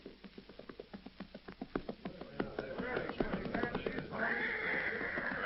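Old time radio drama effect of a horse galloping with rhythmic hoofbeats that slow, followed by a loud whinnying neigh near a relay station, set against a narrator's voice.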